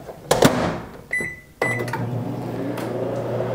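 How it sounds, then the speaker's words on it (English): A microwave oven in a home kitchen, used for candy making: a few short electronic beeps as it is set, then a steady, close mechanical hum as it runs. "It says to microwave for 2 to 3 more minutes."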